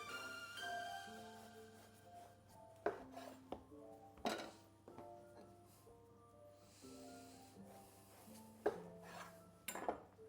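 A knife slicing burger buns in half in a home kitchen, a few soft cuts and sharp clacks against a board or plate, with quiet clinks in between over a low steady hum.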